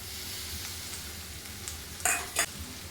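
Chopped onion and capsicum fry in a pan for restaurant-style paneer chilli, giving a steady close sizzle with two brief louder bursts of stirring near the end.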